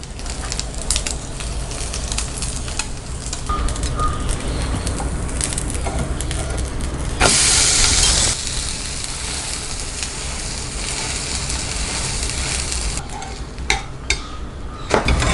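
French toast frying in a little oil in a pan sizzles steadily throughout, with a louder burst of hissing midway and occasional clatter of utensils.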